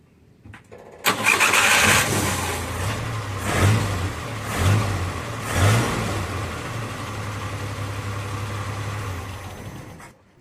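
A car engine is cranked by a newly repaired and reassembled starter motor, catches and settles into a steady idle with a few revving swells, loud and close with no talk.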